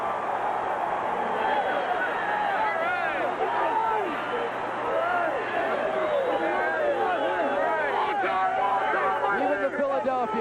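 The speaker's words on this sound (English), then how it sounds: "Crowd giving a nice ovation to the winningest coach of all time in the National Football League" A stadium crowd at an NFL game roars in a steady ovation for the league's winningest coach, a dense wash of cheering and babble that carries on without a break.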